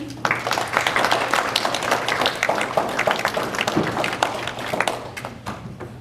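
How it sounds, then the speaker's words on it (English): Audience applause at a library tutoring program orientation, a dense patter of many hands clapping indoors, steady for several seconds and tapering slightly at the end. "please give a round of applause to everyone"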